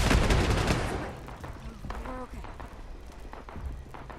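Turrets at a player base in the video game Fallout 76 unleash a loud burst of automatic gunfire that fades into scattered quieter shots and movement noises.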